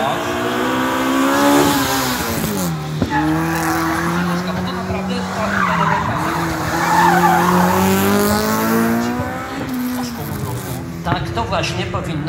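Honda Civic rally car on a rally stage at Rally Wyszków 2024, engine revving up and down through gear changes while tires squeal and skid, close and loud, with people talking over it.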